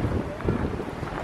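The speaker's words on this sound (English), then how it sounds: "the snowstorm has just gotten worse" Snowstorm wind on a mountain blows hard and close, a dense, continuous roaring rush that buffets the microphone for a short stretch.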